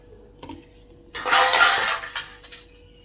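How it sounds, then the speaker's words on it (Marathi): A knife cuts through lemons for a bitter gourd pickle: a light tap, then about a second of close, crisp slicing and scraping on a board, followed by a few faint knocks. "ही लिंब आता मी कापून घेते"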